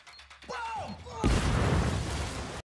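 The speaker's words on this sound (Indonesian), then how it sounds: "sehingga mereka pun tewas karena ledakan" A loud explosion from a skateboard carrying a bomb in a dramatized film scene erupts after a short stretch of talk and music, then a sustained roaring blast and rumble fill the rest of the moment.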